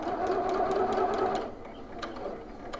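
A home sewing machine stitches rows of gathering along a dress sleeve, a fast, steady mechanical whir with rhythmic needle clicks, close and loud, slowing slightly toward the end.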